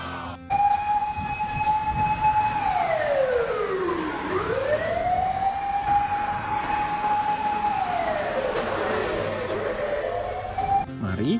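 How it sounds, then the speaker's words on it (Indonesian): A toy fire truck's siren wails continuously, its pitch sweeping up and down in slow repeating cycles, loud and close for the whole stretch with no talk over it. "Selanjutnya ada mobil pemadam kebakaran ya teman-teman."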